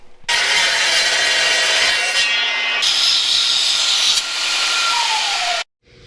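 A power saw cuts a small piece of metal for custom steering on a Toyota Land Cruiser LJ20, a loud, steady, close grinding whine lasting several seconds before stopping abruptly.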